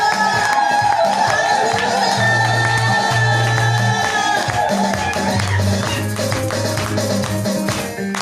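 A church congregation claps, cheers and ululates in a loud, dense crowd roar, with sustained high trilling calls and low held tones running through it.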